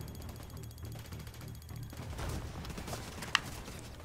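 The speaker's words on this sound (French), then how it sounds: "qui c'est qui me tire dessus encore là?" Gunfire in The Division 2 on Xbox One X, a rattling burst of automatic shots over continuous game ambience, with one sharp, loud crack standing out near the end.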